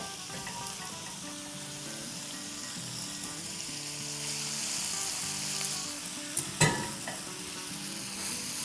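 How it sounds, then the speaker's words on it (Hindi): Noodles for veg hakka chow mein sizzle and fry in a hot pan, a continuous close crackling hiss with occasional scraping stir strokes and a sharp clatter near the end. "और अब हम अपनी इसमें नूडल्स डाल देंगे।"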